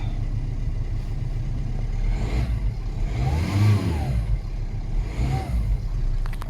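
A Ford Fiesta 1.6 TDCi diesel engine runs steadily after starting, with a couple of rising revs swelling and falling back, close and fairly loud.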